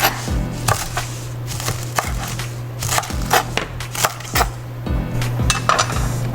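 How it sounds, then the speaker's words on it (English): A knife chops fresh herbs on a board in a home kitchen, giving quick irregular knocks in bursts, close and clear, over a steady low hum. "we're gonna chop, chop, chop, chop, chop. Chop it all up"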